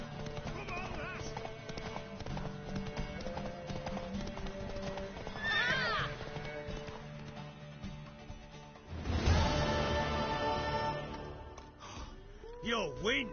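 Horse hooves clip-clop at a gallop while a horse neighs and whinnies in The Witcher 3 game, with voices talking over the running hoofbeats and a louder whinny surge near the end.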